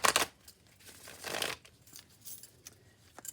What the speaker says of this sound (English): One big shuffle.